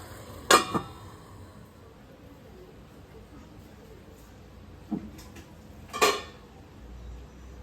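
A lid set onto a pan of ivy gourd curry gives a couple of short metallic clinks and a later clatter, with quiet room noise between them.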